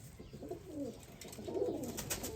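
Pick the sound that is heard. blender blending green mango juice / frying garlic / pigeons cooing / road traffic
pigeons cooing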